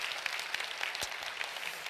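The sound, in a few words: congregation applause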